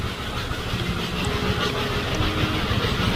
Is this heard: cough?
no